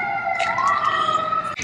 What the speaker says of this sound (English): why they gotta be sirens out there?